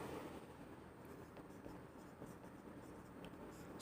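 A pen writes on paper in a quiet room, giving faint, soft scratching strokes at a close distance with no voice over them.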